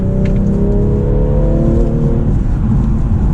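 A BMW M340i xDrive accelerating on a winter drive, heard from inside as a loud, steady engine drone that climbs in pitch over a few seconds, with no talking.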